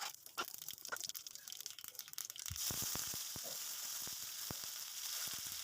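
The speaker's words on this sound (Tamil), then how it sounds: "ஒரு பேனில் கொஞ்சமாக எண்ணெய் சேர்த்து அதில் கடுகு உளுத்தம் பருப்பு தாளிச்சுக்கலாம்." Mustard seeds and urad dal crackle in hot oil in a pan, sparse pops at first and then a steady louder sizzle dotted with sharp seed bursts.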